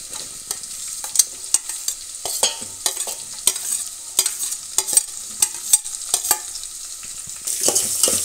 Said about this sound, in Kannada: ಇವಾಗ ಉಳ್ಳಾಗಡ್ಡೆನ ಹಾಕ್ಕೊಳ್ಳಿ.